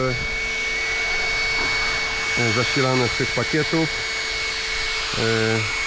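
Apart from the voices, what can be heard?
two electric ducted jet fans cooling Arrma RC car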